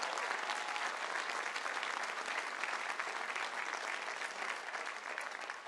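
Sustained, dense applause from a large commencement audience at Pomona College, a steady wash of clapping hands that holds at an even level throughout with no voices rising above it.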